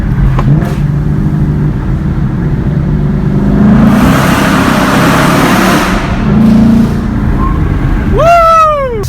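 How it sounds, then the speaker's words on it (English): A 2017 Corvette Z06 under rebuild after a wreck rips hard through second gear, a loud close engine roar that swells into a high-rev surge midway and again near the end, with tire or drivetrain whine at the finish. "I'm about to rip it in second gear."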